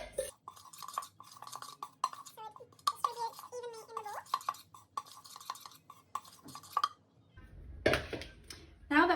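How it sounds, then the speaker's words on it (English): A spoon scrapes and clinks as baking powder is stirred into dry keto muffin ingredients, coconut and almond flour, in a bowl; irregular close scraping with a voice talking over much of it. "And the baking powder. Now make sure to stir through this."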